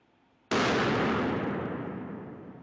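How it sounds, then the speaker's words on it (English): A small chemical explosion bursts from a lab bottle, one sudden loud blast that hits at once and then trails into a long, slowly fading roar. "And this time we get an explosion."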